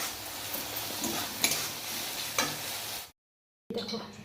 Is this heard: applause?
no